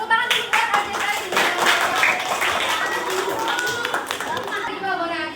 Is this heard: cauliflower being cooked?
no